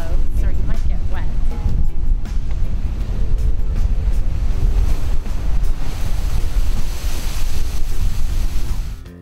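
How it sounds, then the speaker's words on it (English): Sea spray blasting from the natural blowhole on Tinian's northeast coast, a loud continuous roar of surging waves and rushing water mixed with heavy wind buffeting the microphone throughout. "Captured the spray of the sea as it blasts from one of Tinian's natural wonders"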